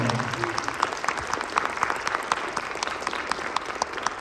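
A crowd applauds Choctaw social dancers after their performance, with clear individual claps audible within a steady, moderately loud ovation that carries through the clip, and a brief voice at the start.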